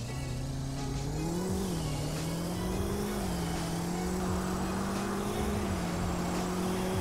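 Engine of a fast car in a Roblox video game revving and accelerating, with pitch rising and falling in waves, loud and continuous with no voices.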